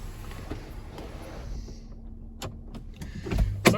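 A Porsche Cayenne 3.0T V6's electric sun blind motor closing gives a steady, low, close whir that runs for about three seconds, then ends in a couple of soft clicks and a firmer clunk as it stops.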